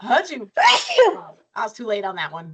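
A single sharp sneeze bursts out close up amid conversation, with people talking just before and after it.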